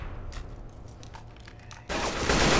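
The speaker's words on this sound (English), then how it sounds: "Please stop shooting me." Gunfire from the Left 4 Dead video game in Xbox One Versus mode: a string of rapid, sharp shots rattles off in a quick burst, then a dense, loud wash of sustained firing and noise takes over toward the end.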